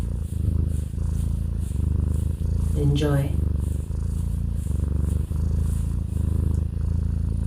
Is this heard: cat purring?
yes